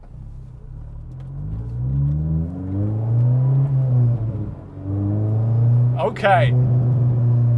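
Honda S2000 with an Invidia Q300 exhaust, heard from inside the car: the engine revs up in a loud, throaty rising pull, eases off briefly, then climbs and holds again, with a brief spoken word over it.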